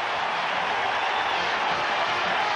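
A steady, distant roar from a packed stadium crowd rises and holds at the 1995 Oklahoma vs Texas college football game, an unbroken wall of yelling with no distinct voices.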